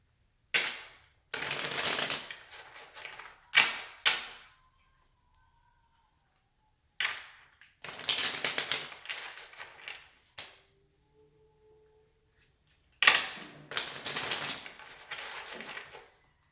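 Tarot cards are shuffled in several separate bursts of crisp riffling and rustling, close and fairly loud, divided by stretches of near silence and a few faint tones.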